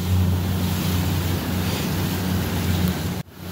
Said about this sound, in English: I got a weird breaking waves over here.